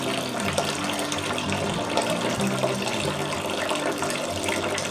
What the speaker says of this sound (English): let me go ahead and let that drain